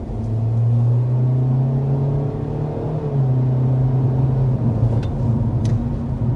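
A 2025 Honda Civic engine pulls under acceleration through its CVT, a steady droning hum that holds a near-constant pitch with a faint whir, heard from inside the cabin with no talking.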